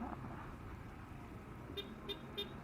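A motorcycle horn, returned to its stock sound after a dual-horn fault, gives three short honks against steady traffic noise.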